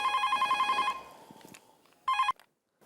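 A telephone rings in a repeated electronic trill, stops, then gives one more short burst after a pause; fairly close and clear.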